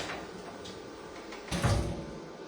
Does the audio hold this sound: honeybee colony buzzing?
no